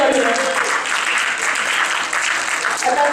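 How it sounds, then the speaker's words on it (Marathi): Audience applause at an annual general meeting, a dense, steady burst of many hands clapping that fills the whole stretch evenly, with no single voice standing out. "आपण जोरदार टाळ्या वाजवूयात"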